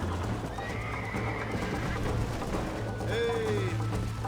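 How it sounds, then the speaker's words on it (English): Horse in the Red Dead Redemption video game gives a clear whinny, a rising then falling squeal near the end, over steady clip-clop hoofbeats and low game ambience. "Giddy up, horsey."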